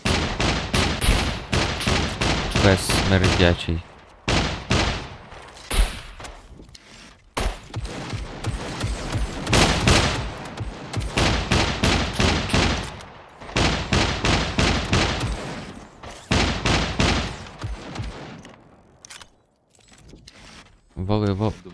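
Gunfire in the PvP survival game SCUM, with repeated bursts and single shots cracking loudly through the stretch, interleaved with someone talking over voice chat.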